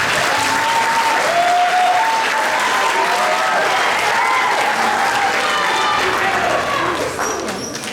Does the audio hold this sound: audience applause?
yes